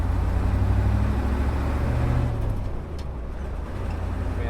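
A diesel-swapped 1967 Ford Highboy truck cruising in third gear at half throttle, a steady low engine drone heard from the cab, easing off slightly partway through, with no talk.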